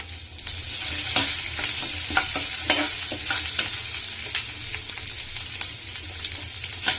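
Dried red chilies, ginger, onion and green chilies frying and being stirred in a pan for lemon rice, a steady close sizzle with repeated scraping stir strokes throughout, no voices.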